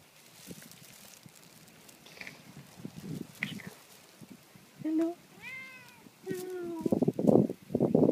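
A cat meows a few times from nearby, rising and falling cries in the second half, with a voice and footsteps around it and some louder handling noise at the end.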